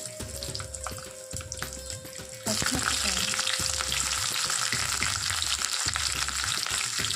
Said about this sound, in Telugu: ఇప్పుడు ఆయిల్ మరిగిన తర్వాత శనగపప్పు ఎండుమిరపకాయలు